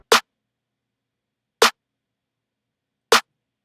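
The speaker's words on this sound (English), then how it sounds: "This clap came from the Mai Drum Kit." A crisp clap drum sample from a drum-kit sample pack, with the low end removed, hits three times at an even, slow interval, dry and isolated with silence between hits.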